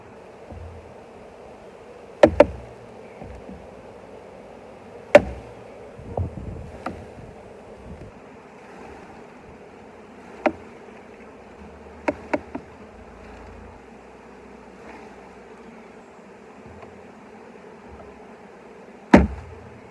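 Bees buzz around an opened hive as a beekeeper shakes them off a frame, a low continuous insect hum broken by several sharp knocks and thumps of the frame and hive woodwork.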